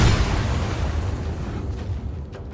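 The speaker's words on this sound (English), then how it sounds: "Just go ahead and booming blade it." A booming blade spell explosion from Baldur's Gate 3 lands as a deep, sustained low rumble that fills the whole stretch, loud and dense, slowly easing toward the end with faint rustling on top.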